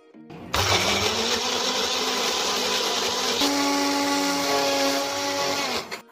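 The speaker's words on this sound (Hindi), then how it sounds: "अब एक मिक्सी के जार में छिलके निकाले हुए टमाटर, लहसुन और मिर्च डालकर इसकी फाइन प्यूरी बना लेते हैं।" A mixer grinder blends peeled tomatoes, garlic and chillies into a fine puree. The loud, steady whirring motor starts after a brief pause and runs continuously, dropping into a slightly different pitch partway through, with no talking.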